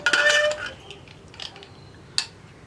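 A pressure cooker lid is opened after cooking potato curry: a loud burst of metallic clatter and rattling at the start, softer knocks, then one sharp clink near the end, with no talking.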